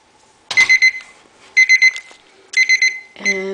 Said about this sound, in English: when the timer rings we can rinse the cage